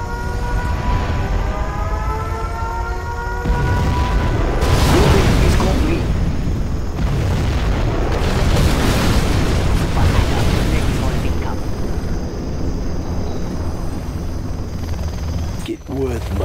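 Roaring, rumbling blasts from a nuclear missile launch and detonation in Command & Conquer: Generals Zero Hour swell in heavy waves over a continuous loud battle din, with a brief sharp crack near the end.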